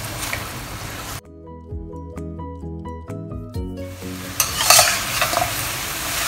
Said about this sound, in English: So we'll keep flipping until we have lessened the sauce.